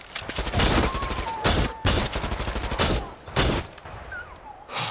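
Video game gunfire in Far Cry 6 comes as repeated loud blasts and bursts, separated by short gaps and echoing tails, with some faint game sounds between shots.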